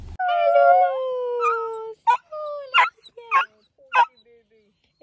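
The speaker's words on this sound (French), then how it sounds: "je vais aller voir les petits popis, puis je vais vous montrer les petits popis" Puppies whine and whimper in long high tones, then yip in several short barks, loud and close, with no talk over them.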